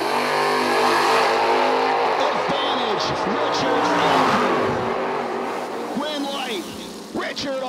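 Drag race cars roar down the track at a St. Patrick's drag racing event, with one reaching 93 mph at the finish line. Loud, steady engine noise fills the whole stretch while an announcer talks over it.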